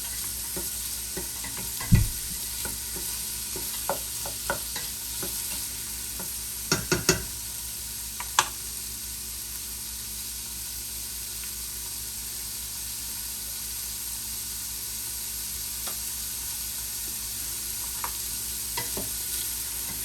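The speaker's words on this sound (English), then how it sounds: "give it a stir just to get everything coated with the oil" Quinoa and bean chili ingredients sizzle steadily in hot oil while a spoon stirs them, with a few sharp scrapes and clinks against the pot over a constant frying hiss.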